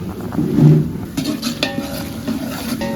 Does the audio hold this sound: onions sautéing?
yes